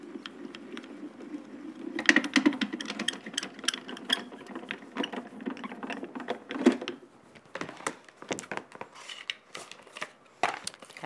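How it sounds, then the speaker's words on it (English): A die-cutting machine draws a cutting plate sandwich through its rollers with steady mechanical clicking and grinding, about ten seconds of continuous rhythmic crank noise, close and moderately loud. "let's bring our cutting plate back in and run it through the machine"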